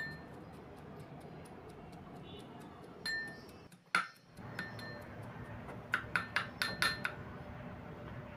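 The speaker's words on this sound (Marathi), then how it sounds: "लसूण बारीक झाल्यावर आपण त्यात भाजलेला कांदा तो पण बारीक करून घ्यायचा आहे।" Roasted onion pounded with garlic gives a run of sharp, close knocks, sparse at first, then clustering into a quick rhythmic burst near the end, with a soft rustle between strikes.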